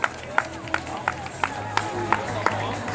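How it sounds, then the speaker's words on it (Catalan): Spectators at a running race finish on the L'Olleria circuit clap steadily with regular sharp claps and crowd murmur, while an announcer talks over a PA. "Fort aplaudiment per a Iman!"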